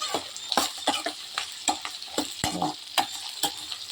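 Ground tomato, onion, garlic and spice masala for bitter gourd palya fries in a pan, a low sizzle broken by quick, rhythmic scrapes and taps of a stirring spoon, up close.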